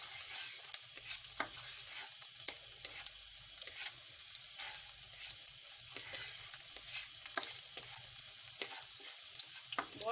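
Finely chopped garlic fries in a little oil in a wok (kadhai), giving a steady, faint crackling sizzle with scattered small pops and occasional stirring scrapes throughout, and no talking.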